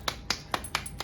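Five sharp hand claps in an even rhythm, close and crisp, spaced about a quarter second apart with no talking over them.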